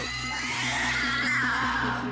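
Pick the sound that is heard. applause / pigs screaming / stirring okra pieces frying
pigs screaming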